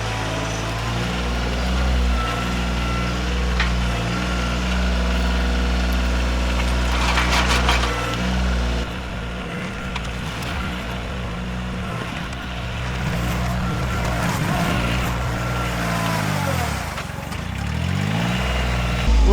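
A Kioti tractor backhoe engine runs steadily in a low, droning rumble, close and continuous, with the pitch dipping and shifting slightly as the load changes.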